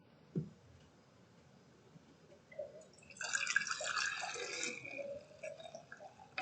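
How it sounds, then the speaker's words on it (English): Hot tomato juice is poured into canning jars: a few faint drips, then a liquid stream splashing and gurgling as the jar fills, close and fairly quiet with no talking. "I'm going to pour it in my jars here"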